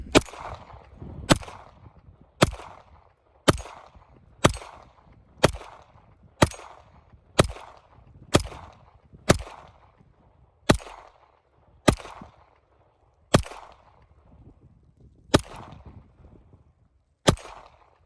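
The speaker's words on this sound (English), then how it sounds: "Let's do some shooting for now." Around sixteen sharp gunshots from a Taurus PT92 AF full-size 9mm pistol fired outdoors in cold weather, each a loud crack with a short decay, in an irregular, unhurried series, no talking.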